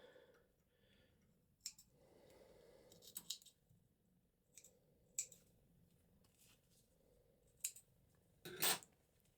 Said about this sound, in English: Take my snips